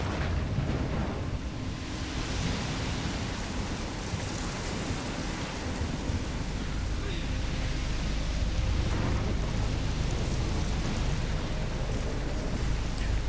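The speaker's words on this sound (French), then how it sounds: "on est en pleine tempête" A storm near a lighthouse in Life is Strange sends heavy rain and wind roaring in a constant, dense wash, with low rumbling swelling beneath it throughout and no voices.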